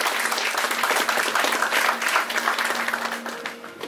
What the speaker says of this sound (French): Acclamons Dieu très fort.